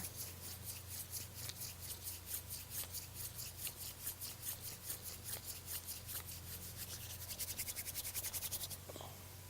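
A wooden hand drill spindle spun rapidly between the palms on a fire board makes a steady rhythmic rubbing and scraping, close up, that speeds up toward the end.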